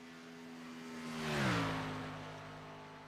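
Race car in a video game league event at Michigan, coming off turn 4 toward the start-finish line: a single engine note sweeps past, swelling to a loud peak and dropping in pitch as it goes by.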